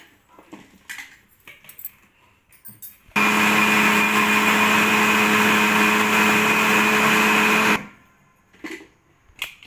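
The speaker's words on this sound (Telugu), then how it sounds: "అక్కడక్కడ చిన్న చిన్న కొబ్బరి ముక్కలు అయితే తాకుతాయి కాబట్టి ఇంకొకసారి మిక్సీ పడదాం" A mixer grinder runs loud and steady for about four and a half seconds, grinding coconut pieces a second time, with quieter handling clatter before and after.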